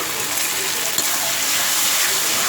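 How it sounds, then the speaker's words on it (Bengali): Rinse water from a mixer jar poured in a steady, close gush into spice paste frying with mourola fish and aubergine in a Bengali kitchen, a continuous bright wash of liquid for a couple of seconds. "এবার মিক্সির জার ধোয়া জলটা আমি অল্প করে এর মধ্যে দিয়ে দেবো।"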